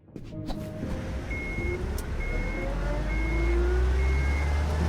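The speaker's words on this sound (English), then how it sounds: "Crap, they started the engine." A truck engine starts in a video game, rumbling low and steady, building slightly in loudness, with faint tonal beeps and hums layered above; no talking.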